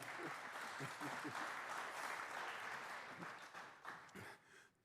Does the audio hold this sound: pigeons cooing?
no